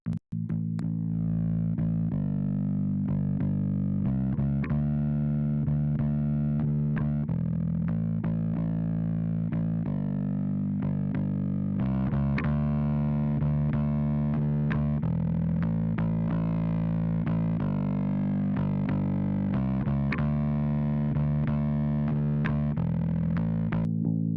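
A bass guitar driven hard through aggressive distortion plays a sustained, gritty line with a steady low drone and note changes every second or so, loud and continuous with no voice.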